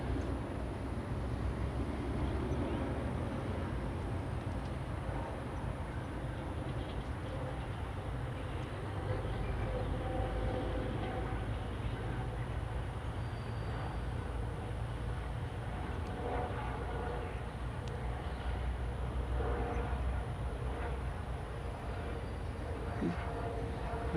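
A fixed-wing airliner flying with its landing gear left down in a dirty configuration, as on a test flight, a steady broad engine roar holding at even loudness throughout, with faint voices now and then beneath it.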